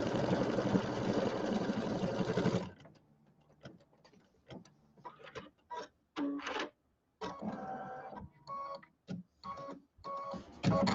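A sewing machine stitches a tack-down line on a penguin mug rug with a dense, steady mechanical whir for nearly three seconds, followed by sparse clicks, taps and short mechanical bursts, all close and without speech.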